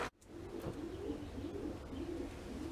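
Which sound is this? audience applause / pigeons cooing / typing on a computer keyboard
pigeons cooing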